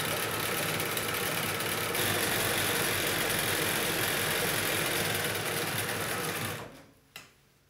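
A sewing machine runs fast and loud, stitching fabric layers with a faux overlock stitch, a steady dense whirring that holds for several seconds before winding down and stopping, followed by one short click.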